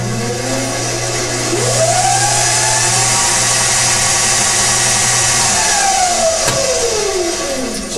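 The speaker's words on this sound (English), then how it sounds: "here I should have a crude control of the speed of my prime mover" An electric prime mover motor driving a doubly fed generator in a lab demo hums loudly and steadily, its tone sweeping up and then back down as the speed is varied, with no talk over it.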